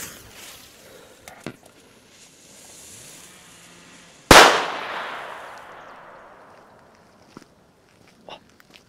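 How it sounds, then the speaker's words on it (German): A Danger Pyro Factory firecracker (Böller) goes off outdoors with a single sharp, loud bang that trails into a decaying rumble, preceded by faint fuse crackle and followed by quiet distant pops. "der Böller war jetzt relativ schwach"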